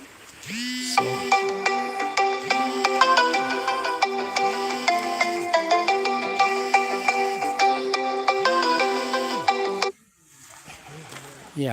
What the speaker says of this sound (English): I was getting a phone call